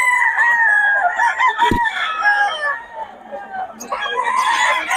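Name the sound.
Sweater bloodline gamefowl rooster crowing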